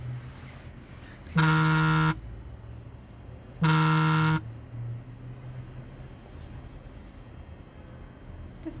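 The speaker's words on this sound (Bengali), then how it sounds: "সাইলেন্ট করে দিই নাহলে বারবার ভাইব্রেশনের শব্দ হচ্ছে" Two loud, sustained buzzing bursts close by, each under a second long and separated by a short pause, like a phone vibrating on a hard surface.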